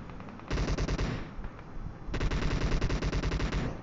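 Dense automatic gunfire from the video game PUBG Mobile on the Livik map, loud rapid bursts that pause briefly then resume in a long sustained volley, with no talk over it.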